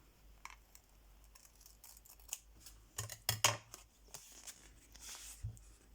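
Scissors snipping through paper flowers for a craft card, a few quick crisp cuts clustered in the middle, close and fairly quiet, with light paper rustling around them.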